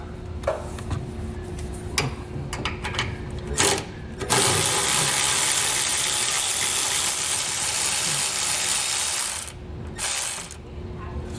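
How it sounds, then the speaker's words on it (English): A ratchet removes 10 millimeter nuts under a 2022 GMC truck, giving short bursts of clicking, then a long steady rapid whir of a power ratchet spinning before it stops, with brief clicks after. "So we have some 10 millimeter nuts here that we should be able to remove."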